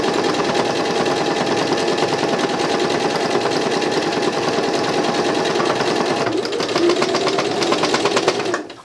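A sewing machine stitches the second side of a fabric bag, running as a loud, close, steady whir with a fast even rhythm for almost nine seconds before stopping, with no voices.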